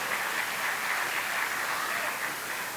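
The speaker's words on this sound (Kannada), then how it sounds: "ಜೋರಾದ ಚಪ್ಪಾಳೆ ಬರ್ತಾ ಇರಬೇಕು." Audience at a Yakshagana performance breaks into steady, dense applause, a continuous wash of many hands clapping that holds at an even level for the whole stretch, with no voices standing out.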